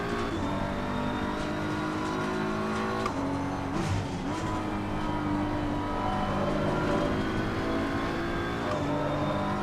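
Race car engines roar continuously in Assetto Corsa Competizione at the Zolder circuit, loud harmonic revving that rises and drops with gear shifts as cars run close together, with no talk.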